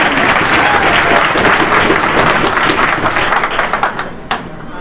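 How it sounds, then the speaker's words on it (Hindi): An audience at a school opening ceremony in Haryana gives loud, sustained applause that holds steady, then thins out near the end. "जोरदार तालियां हो जाए"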